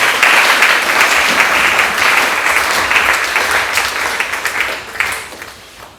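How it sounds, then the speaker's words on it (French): A church congregation at a Sunday service applauds, with dense, loud, sustained clapping from many hands that tapers off near the end. "Acclamons encore le Seigneur."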